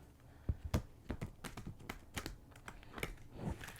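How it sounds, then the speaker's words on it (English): A deck of tarot cards is shuffled by hand, heard as a quiet, irregular run of soft taps, flicks and slaps with no voice over it. "And I'm going to shuffle again."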